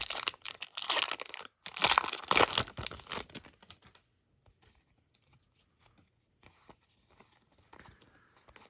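Disney Lorcana booster pack wrapper torn open by hand, a loud burst of crinkling and tearing plastic foil for a few seconds, then sparse, quieter crinkles and card handling.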